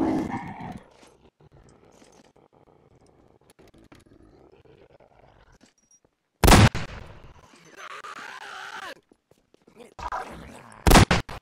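Short, loud bursts of gunfire crack out in a video game battle between Combine forces and zombies, separated by quieter stretches of low rumble and game sounds.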